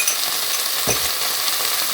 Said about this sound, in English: let's mix it all together